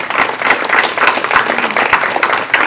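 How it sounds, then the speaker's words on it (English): Audience applause at a school board meeting welcoming a new staff member, dense clapping from many hands, fairly loud and continuous. "Clap for yourself."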